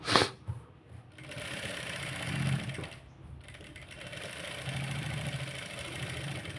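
A sewing machine running a stitch along the edge of a blouse sleeve, its steady mechanical whirr continuing in two long runs separated by a brief pause, close and moderately loud.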